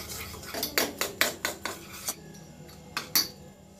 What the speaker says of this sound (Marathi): त्या बेसन पीठ मध्ये मी दही मिक्स करतेय